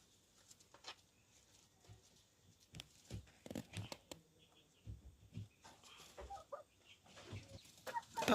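A hen with weak, ailing legs gives soft, scattered clucks at close range, mixed with faint rustling and crinkling.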